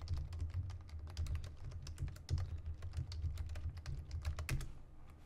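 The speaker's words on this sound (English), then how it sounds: "you could type in Corridors of Time" Rapid, steady typing on a computer keyboard, a dense run of close, crisp key clicks with occasional heavier strokes over a low background hum, no one speaking.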